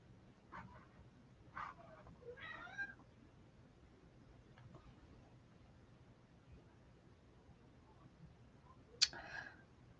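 A cat meows several times at moderate distance over a quiet room hum, with brief calls spaced out and a sharper, louder meow near the end.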